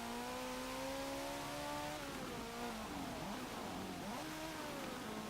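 A 2003 Renault Sport Clio fitted with a twin-turbo V8 in Forza Motorsport 7 revs loudly and continuously, its engine pitch sliding down and back up through gear changes.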